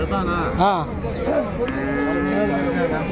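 Jersey calves at a calf market moo loudly and close by, giving several drawn-out, rising and falling bellows over a busy background of crowd noise.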